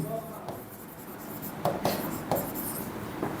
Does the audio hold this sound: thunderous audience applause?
no